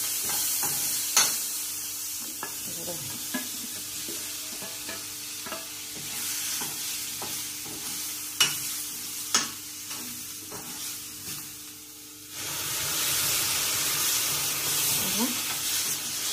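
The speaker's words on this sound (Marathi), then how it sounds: "अगदी थोड्या तेलात भाजायचं, म्हणून कंटिन्यू तसं हे करायला लागतं." Okra frying in a little oil while being stirred makes a close, steady sizzle marked by repeated spatula scrapes and taps, growing louder near the end, with no talk over it.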